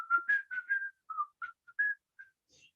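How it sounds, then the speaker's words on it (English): A man in an ill-fitting suit whistles a tune while walking down a sidewalk, a clear solo melody of short and held notes with brief pauses, no other sounds. "a 15-second film of a fat guy in an ill-fitting suit walking down the sidewalk whistling"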